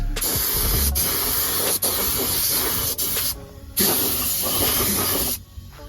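Loud close spray-can bursts coat a Honda K-series engine valve cover in red paint, long continuous hissing blasts broken by a few brief pauses, with no talking.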